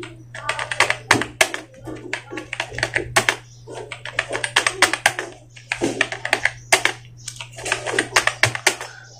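Steady bursts of typing on a computer keyboard entering Hindi text in the Mangal font, fast clustered key taps in runs with short pauses, close and clear over a constant low electrical hum.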